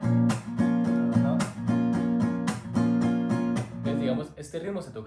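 A guitar strums a san juanito rhythm with snapping chasquido strokes, sharp percussive clicks cutting through steady chords in a quick repeating pattern, close and loud, fading into looser strums at the end.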